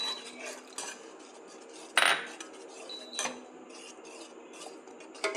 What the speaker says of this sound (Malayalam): കൈ എടുക്കാതെ കുറുക്കിക്കൊണ്ടിരിക്കണം, അല്ലെങ്കിൽ അടിയിൽ പിടിക്കും